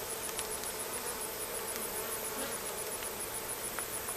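Dense, continuous buzzing of a honey bee swarm around a hive frame outdoors, a steady drone of many insects with occasional louder passes close by.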